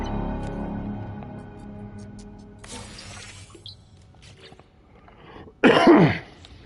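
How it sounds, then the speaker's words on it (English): One sudden dry cough, loud and close, a single harsh burst near the end after quiet background game sounds. "sorry about the cough. It came on suddenly. My throat went really dry."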